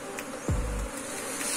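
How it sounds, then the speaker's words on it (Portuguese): Honeybees buzz around a beehive with fresh white wax comb being drawn out and stocked, a steady insect drone with a brief low thump near the start. "as abelhas estão puxando e estocando"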